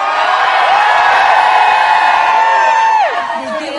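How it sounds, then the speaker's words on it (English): A loud, dense crowd cheering and whooping for the Big Brother house during a live celebrity eviction, sustained at full volume before easing slightly at the end. "They're cheering."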